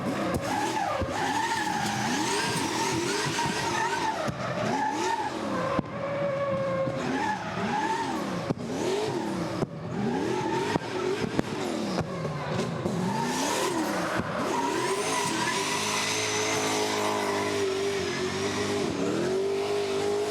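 A Nissan GT-R with a Liberty Walk V2 body kit and a turbocharged LSX V8 drifts at a drift competition, tires squealing in long sweeping wails over a loud, revving engine that rises and falls continuously.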